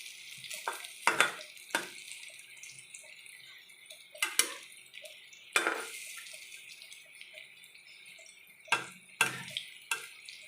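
Food frying in oil in a pan is turned over, giving soft steady sizzling with several sharp scraping and clattering bursts from the turning, fairly close and without voices.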